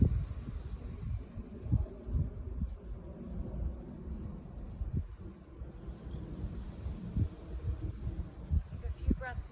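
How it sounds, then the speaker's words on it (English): Steady outdoor wind in nature, a soft continuous rush with low gusty rumbles and fluctuating buffeting, moderately faint and without voices. "Clear my mind, listening to the wind,"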